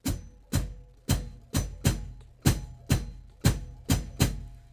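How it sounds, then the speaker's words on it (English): Drum kit with hi-hat and bass drum struck together, about ten evenly spaced punchy hits pairing a low thump with a bright cymbal chick, each decaying quickly, close and alone. "So I will get the hi-hat and the bass drum at the same time."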